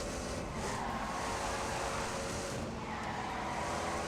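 A car in The Grand Tour video game brakes and slides, its engine and tyre scrub forming a steady, loud continuous rush for several seconds with no talking over it.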